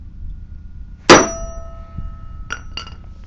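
A manual impact wrench struck once with a hammer to loosen a bolt, giving a single loud metallic clang that rings on, followed by two lighter metal taps a moment later, close up with no talking.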